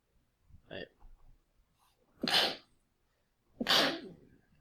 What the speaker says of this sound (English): feel like I'm going to sneeze.